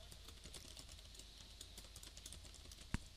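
Code is typed on a computer keyboard in quick, soft, irregular keystrokes under a faint hum, with one sharper key tap near the end.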